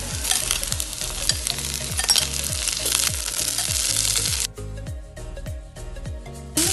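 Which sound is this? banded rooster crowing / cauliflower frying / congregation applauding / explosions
cauliflower frying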